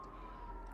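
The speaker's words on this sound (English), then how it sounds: "ambulance coming" An ambulance siren sounds steadily in the distance, a faint sustained wail that holds throughout without any voices.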